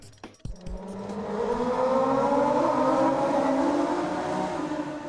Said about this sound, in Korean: 밤 10시가 넘은 시각, 오토바이 5대가 굉음을 내며 도로를 내달립니다.